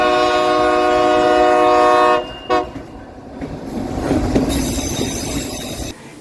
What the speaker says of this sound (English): But this time we did the railroad, one of Princess's highest rated excursions worldwide.